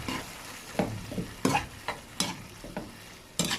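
Century Tuna and chopped sayote being stirred in a hot pan, a spoon scraping and clacking in irregular strokes over a soft sizzle, close and clear with no talk.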